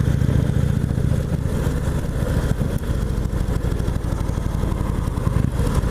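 A 2017 Indian Chieftain Limited motorcycle on a ride, its engine a continuous low, throbbing rumble holding steady and close with a slight dip midway.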